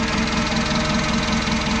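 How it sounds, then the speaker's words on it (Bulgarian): A Nissan 2-ton truck with a carburetor engine idles steadily up close, its low, even mechanical chug running without a break and with no voices. "Ето го мотора."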